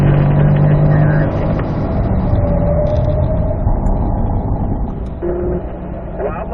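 A Corvette is driven hard around the North Course at the Ron Fellows Corvette School, its engine roaring steadily and loud throughout while an instructor talks over it.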